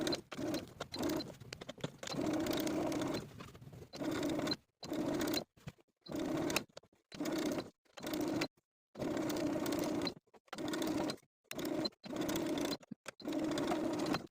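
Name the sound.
sewing machine understitching a neckline facing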